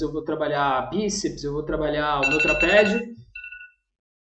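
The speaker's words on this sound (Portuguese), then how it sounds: "Alguns alarmes aqui, peço desculpas pelo barulho aí no vídeo." An alarm or phone rings in a room during a talk on planning a calisthenics workout. Electronic ringing tones sound beneath steady speech, then a short, clear beep follows after the talking stops.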